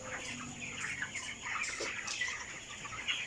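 Crowded 25-day-old broiler chickens packed tightly in a cage give off a steady, fairly faint murmur of chirps and soft clucks, with no talking over it.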